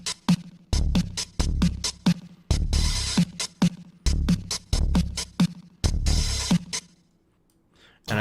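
Layered synthesized drums for a game soundtrack, with a deep, pitch-bending synth kick under snappy hits and bursts of noisy crash, looping in a driving repeated pattern before stopping briefly.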